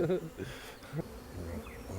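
Honeybees buzz steadily close by at a hive, a dense humming drone with a few louder passes near the microphone; a voice murmurs briefly underneath.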